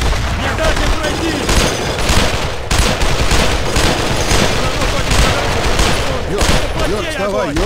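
Sustained gunfire fills a battle in the World War II video game Brothers in Arms: Road to Hill 30, with dense, continuous bursts of rifle and machine-gun shots and booming explosions, loud and unbroken, while shouted voices come through the din.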